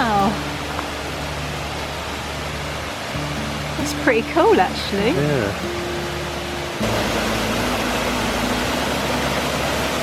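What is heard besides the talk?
waterfall in the Black Forest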